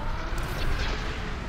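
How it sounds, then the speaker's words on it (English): Ion cannon fire in a Star Wars video game: a dense, continuous roaring rumble with a rough booming texture, steady and fairly loud throughout, with no voices. "Oh no, here's the ion cannon."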